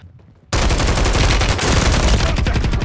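Dense rapid gunfire in Call of Duty Warzone on Rebirth Island, a sudden loud burst of sustained automatic shots rattling continuously after a brief quiet start, with no talk.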